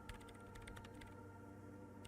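Computer keyboard typing in the Disco Elysium game world, with quick, irregular key clicks through the first second and then fading into a steady low background hum.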